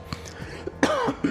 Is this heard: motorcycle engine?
no